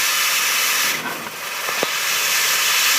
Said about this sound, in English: Now there's no more water, just straight steam.